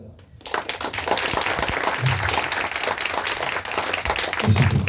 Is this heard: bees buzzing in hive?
no